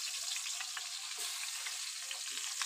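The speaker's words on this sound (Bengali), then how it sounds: "এবার আমি সেই তেলে আমি মাছের মাথাগুলো ভেজে নেব" Turmeric-coated fish heads frying in oil for a cabbage muri ghonto. A quiet, steady, bright sizzle runs throughout, with faint stirring knocks and no voices.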